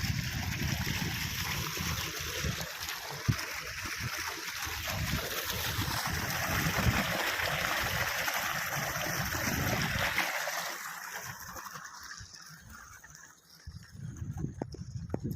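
Irrigation water pours steadily through a channel into a wheat field, a close, continuous rushing flow that thins and drops away toward the end.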